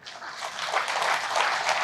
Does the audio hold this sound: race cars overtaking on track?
no